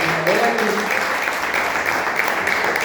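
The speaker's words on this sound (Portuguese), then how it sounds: "Adore o Senhor com a salva de palmas." A church congregation claps together in sustained, dense applause, loud and close, with a voice briefly audible over the clapping near the start.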